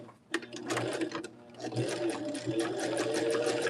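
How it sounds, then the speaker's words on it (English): A sewing machine stitches a quilt block along a folded line, its rapid mechanical chatter running steadily close by after a brief quiet start. "let's take it back to our machine, and we're going to stitch right on that line, right on that fold."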